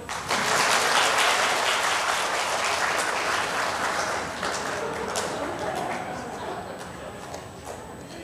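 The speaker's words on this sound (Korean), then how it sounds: "박수 주세요." A congregation applauds families during a Sunday church service, steady sustained clapping from a large group filling the room, gradually fading slightly toward the end.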